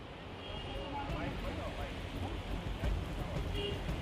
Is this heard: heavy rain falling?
yes